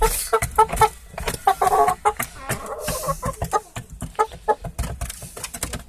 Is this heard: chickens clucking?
yes